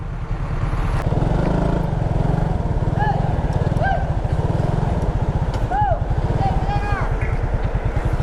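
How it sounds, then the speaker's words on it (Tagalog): A motorcycle engine chugs steadily and close on a Philippine roadside, a continuous rumbling drone with several short horn honks and passing traffic around it, while people talk nearby. "Motor lang, motor."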